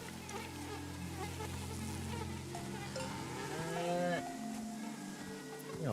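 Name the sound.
cows mooing with cowbells, video game SEASON: A letter to the future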